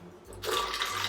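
Water splashes suddenly into a blender jar holding egg yolk and salt, a short close pour that starts abruptly and runs on steadily.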